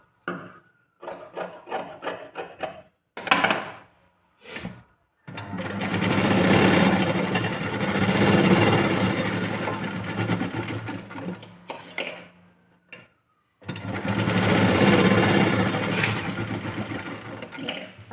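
A sewing machine stitches a blouse in bursts: short stuttering runs at first, then two long, steady whirring passes with a brief pause between, fairly close and clear with no talk.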